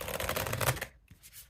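A deck of tarot cards is riffled in a dense, rapid flutter for about a second, close and fairly loud, followed by a soft tap and near quiet.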